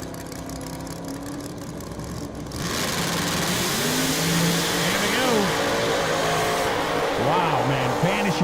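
A race car launches down the drag lane at a racing event, its engine noise surging loud from a quieter start and staying dense, with an announcer talking over it.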